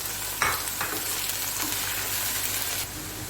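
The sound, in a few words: beef keema being fried (bhuna) in a pan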